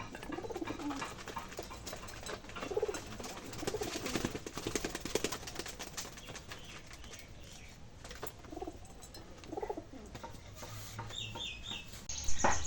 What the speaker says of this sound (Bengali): কবুতরগুলো কত সুন্দর করে ডাকতেছে